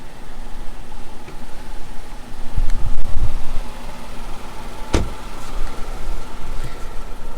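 A Tata Tiago petrol AMT hatchback idles steadily with a low, even hum, joined by a couple of brief clicks and knocks partway through, with no talk.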